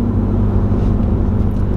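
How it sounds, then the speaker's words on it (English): Ford Focus ST with a loud aftermarket exhaust, a deep, steady droning rumble heard up close and continuous with no voices over it. "I think it's because your exhaust is fucking loud"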